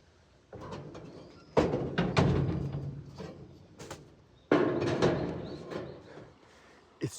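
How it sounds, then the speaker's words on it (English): On a rainy winter morning at a home in Japan, a small bird calls off and on, mixed with a few louder bursts of nearby rustling and clattering, with no voices. "It's Chun-Chun the winter bird"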